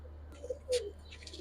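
Giribaz high-flyer pigeons give a soft, low coo near the middle, faint and close against a steady background hum.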